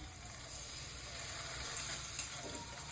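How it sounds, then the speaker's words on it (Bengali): Spices with onion and tomato cook in a pan, a soft, steady sizzling hiss heard from close by with faint crackles and no other sounds. "মশলাটা কষিয়ে নেব।"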